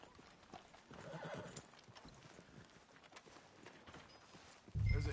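Horse hooves clip-clop at an easy walking pace in the video game Red Dead Redemption 2, quiet and a little distant, followed by a sudden louder thump at the end.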